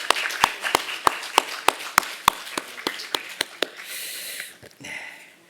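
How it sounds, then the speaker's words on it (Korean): A church congregation at a Sunday worship service claps to welcome visiting guests, giving a series of sharp, evenly spaced claps close to the listener that fade out into rustling room noise. "우리 박수로 환영하겠습니다."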